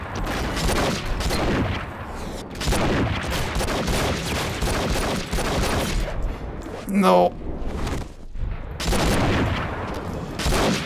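Bursts of gunfire from the video game Enter the Matrix crackle and rattle in rapid volleys, loud and dense, under excited overlapping talk from players.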